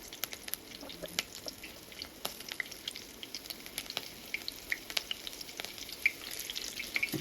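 Cloves, cinnamon, cardamom, bay leaf and slit green chillies sizzle in hot oil for a green chicken curry, a steady, quiet crackle broken by sharp little pops and spits.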